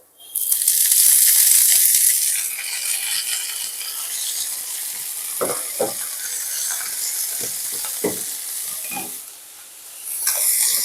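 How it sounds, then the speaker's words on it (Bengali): Chopped fenugreek greens hit a pan of nearly fried potatoes and set off a loud burst of sizzling that settles into a steady hiss, with scraping stirs and small clinks; no one speaks. "আলুটা আমার প্রায় ভাজা হয়েই গেছে এরপর এতে আমি কুচি কুচি করে কেটে রাখা শাকটাকে দিয়ে দিলাম"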